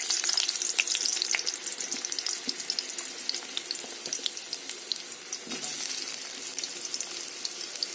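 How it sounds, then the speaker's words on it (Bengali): Potatoes sizzle and crackle as they fry in hot oil, a steady close hiss with scattered pops and no voices. "তেল গরম হয়ে গেছে, আলুটা দিয়ে নেব।"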